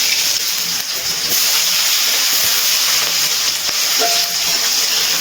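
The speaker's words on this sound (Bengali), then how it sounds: "আলুগুলো ভালো করে ভেজে নিচ্ছি।" Potatoes frying in hot oil over a tempering of spices for a Bengali vegetarian beetroot, carrot and pea curry give off a loud, steady, dense sizzle throughout, with no talk.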